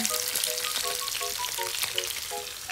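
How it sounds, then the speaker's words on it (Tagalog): Steady close sizzle of tilapia frying in hot oil, a continuous crackling hiss with faint tonal clinks over it, no talking. "nagpiprito pa rin ako dito ng tilapia"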